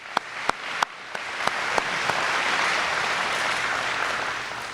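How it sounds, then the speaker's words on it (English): Audience applause for Dr. Reed at a college chancellor's breakfast, opening with a few sharp single claps and swelling into a steady wash of clapping from a crowd. "How about another hand for Dr."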